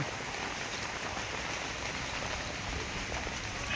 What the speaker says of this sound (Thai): ฝนกระตกมา อีกแล้ว